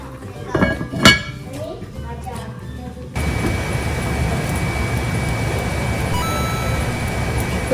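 A lid clinks onto a metal pot of Korean braised chicken with carrots, a few sharp close clinks, then a steady rushing noise of cooking carries on underneath.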